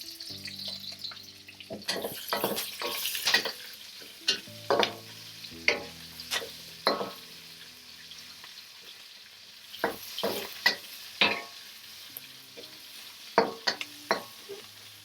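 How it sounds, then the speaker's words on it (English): Onion fries in oil in a hot wok, a quiet sizzle broken by many sharp clanks and scrapes of a utensil against the metal, spaced irregularly throughout. "Because my wok is still plenty hot, I can add in my onion."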